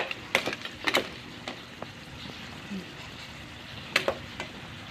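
River snails stir-fried in a pan, with a steady soft sizzle broken by scattered sharp clicks and scrapes as the spatula moves through the shells.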